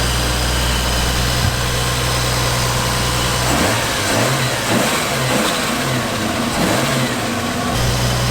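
Toyota 2JZ six-cylinder engine fitted with coil-on-plug ignition, running smoothly at a loud steady idle, then revved up in a couple of rising blips before settling back to idle, close by.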